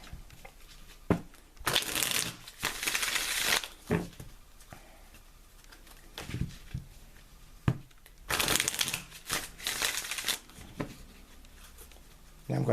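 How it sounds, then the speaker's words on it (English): A tarot deck being shuffled by hand, several bursts of riffling card noise with quieter gaps between them, close and fairly crisp, with a person talking in between. "I'm going to take the deck, I'm going to shuffle the cards"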